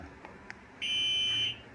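A few faint beeps, then a loud, steady high-pitched electronic alarm tone from a bicycle anti-theft alarm on a CUBE Reaction bike sounds for under a second before cutting off.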